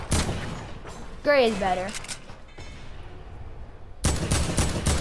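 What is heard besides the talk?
gunfire in Fortnite zone wars, a video game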